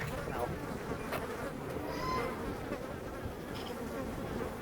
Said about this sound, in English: the bees are all starting to swarm